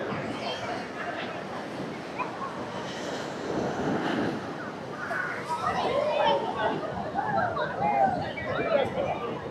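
Sea waves wash steadily onto Swargadwar beach in Puri, a continuous roar of surf mixed with wind and beach crowd chatter, as a person talks over it nearby.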